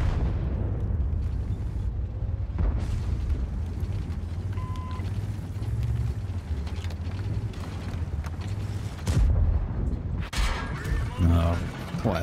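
A tank cannon firing in World of Tanks, a T110E5 heavy tank, booming over a constant low engine rumble with game noise, with a louder burst late in the clip.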